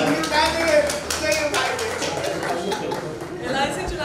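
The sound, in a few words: audience clapping in support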